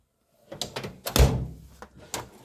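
A toolbox drawer in a home garage tool chest slides open, giving a few close wooden-sounding knocks and rattles and one firmer thunk partway through, with no talk.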